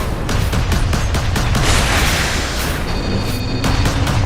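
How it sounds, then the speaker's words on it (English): Missile launcher fire in the Warhammer 40K Space Marine video game, a dense, continuous barrage of booming blasts and gunfire that stays loud and close throughout, with no talking. "Missile launcher."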